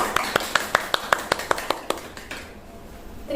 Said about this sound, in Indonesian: kasih tepuk tangan dulu dong untuk para narasumber hebat kita